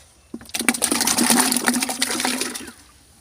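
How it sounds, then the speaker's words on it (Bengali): Cow dung water poured slowly over seed potatoes in a container, a steady close splashing gush that starts abruptly, runs for about two seconds and then tapers off. "এবার এই আলুটা এই গোবর জলে সব ঢেলে দেবো আস্তে আস্তে"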